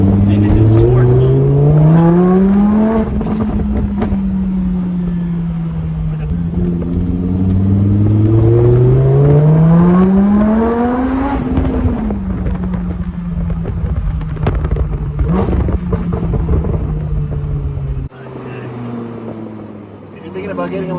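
A Lamborghini in sport mode accelerates hard. Its engine note climbs in repeated surges, dropping at each gear change, and stays loud and close inside the cabin with people talking over it.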